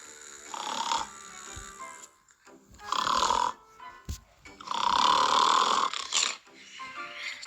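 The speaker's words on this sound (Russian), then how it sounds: "Ты что, храпишь?" Loud close snoring from a sleeper, several long rasping snores with wheezy breaths and short pauses between them.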